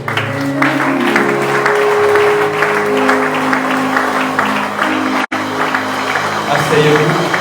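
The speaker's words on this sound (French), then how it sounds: "Est-ce qu'on peut acclamer le Seigneur?" A church congregation applauds and cheers in praise at a service, a sustained, loud wash of clapping with voices mixed in, briefly cut off near the end before resuming.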